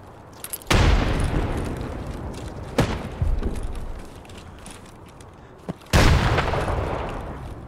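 Grenades go off in a first-person shooter video game, three booming blasts spaced a few seconds apart, each a sharp crack followed by a long rumbling tail, with smaller thuds and clanks between.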